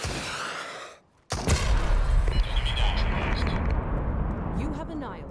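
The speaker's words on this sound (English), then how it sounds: "The remaining enemies will start swarming your location because they have heard the explosion." A tactical nuke detonates in the shooter game Super People: after a brief near-silent gap, a sudden massive blast erupts and rolls on as a loud, sustained rumbling roar of debris and fire.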